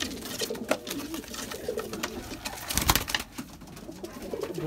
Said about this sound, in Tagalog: may mga kalapati dito